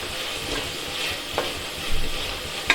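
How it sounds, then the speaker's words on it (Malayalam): Sliced onions and green chilies sauté in a hot pan, a steady close sizzle with soft stirring scrapes and a couple of sharp utensil clicks against the pan. "ഇത് നമുക്ക് നന്നായിട്ടൊന്ന് വഴറ്റിയെടുക്കണം"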